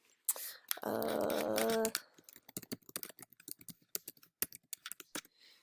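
Quick bursts of clicking keystrokes on a computer keyboard while logging in, irregular close taps after a brief loud hum, with someone speaking faintly over the typing.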